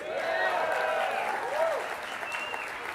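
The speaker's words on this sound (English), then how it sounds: "give yourselves a big round of applause from me" Audience applause fills the clip at a steady moderate level, with faint whoops and a cheering voice rising over the clapping.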